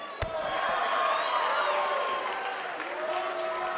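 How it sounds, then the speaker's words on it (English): Crowd noise from the WWE 2K19 wrestling game at a small independent show held in a high school parking lot: a sustained roar of cheering and applause, opening with a sharp slam, continuing steadily under the arena ambience. "We have a sold-out, record-setting crowd here for BCW tonight."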